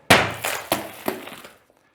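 An object thrown hard against a pane of tempered glass gives a sharp crash, then a few ringing, crackling impacts that die away within about a second and a half, close and loud with no voices.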